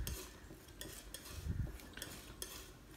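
A palette knife scrapes and mixes white and brown paint on a palette, giving faint, quiet scraping and tapping strokes at an irregular pace, with no talking.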